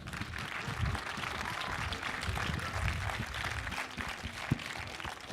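Sustained audience applause at the closing ceremony of a short film festival, dense broadband clapping filling the room at steady loudness throughout, with a few sharper individual claps standing out near the end.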